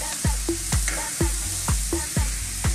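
A paprika and broccoli mixture cooking in a pan over fairly high heat, a continuous sizzle broken by regular scraping stirs roughly every half second, close and clear with no voices.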